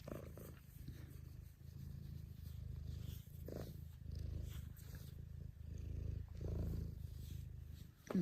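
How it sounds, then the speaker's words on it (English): A domestic cat purrs close up in a steady, rumbling rhythm of breathy cycles, soft and continuous with no talking. "she's out, and she's happy, and she's purring"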